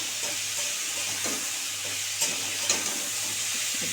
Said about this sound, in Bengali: দিয়ে আমি এখন ফুলকপিটাকে খুব সুন্দর করে ভেজে নেব।